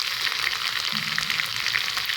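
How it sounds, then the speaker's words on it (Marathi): Coconut oil cooked with aloe vera bubbles and sizzles steadily in a pan, a continuous close crackling hiss with a faint low tone partway through. "त्या खोबऱ्याचं तेल उकळलेलं आहे"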